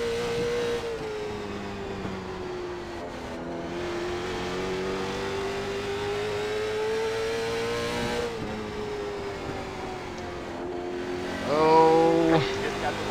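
Late model stock race cars on the Hickory track in the iRacing game, a steady loud engine drone with gear shifts and a pack of cars roaring close by near the end, while someone talks over it.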